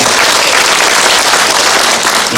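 A crowd at a city hall briefing in Jecheon gives loud, close applause to welcome an association chairman, a dense and continuous roar of clapping hands with no pause.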